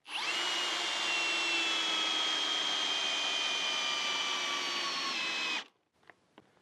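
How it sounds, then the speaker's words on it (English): Brushless hammer drill driving a screw with the clutch at a middle setting: a steady, close high-pitched motor whine holding for over five seconds, then stopping abruptly, followed by a few faint clicks. "It drove the screw all the way in and went to 94 inch-pounds."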